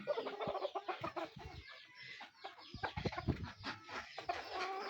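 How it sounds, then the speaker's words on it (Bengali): Native desi chickens cluck repeatedly around a farm shed, with close, busy overlapping calls and short bursts in an uneven rhythm. "একবারে পিওর দেশি মুরগি"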